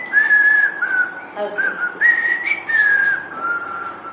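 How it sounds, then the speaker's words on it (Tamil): A person whistles a clear, melodic signature tune of several sustained, sliding notes, close and loud, with a brief spoken word partway through. "இந்த விசில் அப்படியே காப்பி பண்ணி அது மூவியில் யூஸ் பண்ணிக்கோங்க"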